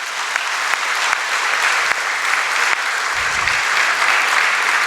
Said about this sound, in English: Please clap your hands for yourself.